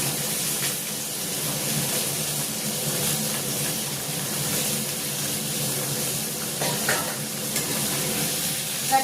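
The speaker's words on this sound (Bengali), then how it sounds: "এবার আমি এটাকে ভালো করে সবজিটাকে ভেজে নেব।" Vegetables frying in hot oil in a pan, an even, close hiss of sizzling that holds steady throughout with a few faint stirring sounds and no voices.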